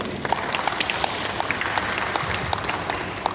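An audience at a panel discussion on interfaith marriage with Komnas HAM and the Ombudsman applauds a speaker being introduced. Steady crowd clapping sounds moderately close, with individual sharp claps standing out through the brief round.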